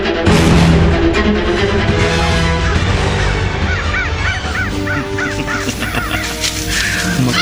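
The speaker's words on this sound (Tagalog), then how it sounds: "isa-isang dumadating ang mga uwak na narating ng aking karunungang itim" Crows arriving one by one during a night ritual, loud harsh caws repeating close by, with several overlapping calls in quick bursts toward the end.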